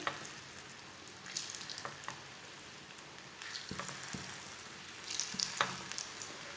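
Banana slices drop one by one into hot oil for chips, raising a faint, crackling sizzle with scattered pops and stirring clicks that grow a little busier toward the end, with no talk.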